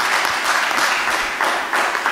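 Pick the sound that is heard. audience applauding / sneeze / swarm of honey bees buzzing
audience applauding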